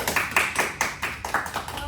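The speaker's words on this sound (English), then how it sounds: "Can we have a round of applause for him now?" A small audience at a school talk event claps in a sparse, uneven pattern of distinct individual claps, fairly quiet and short, with voices faintly mixed in.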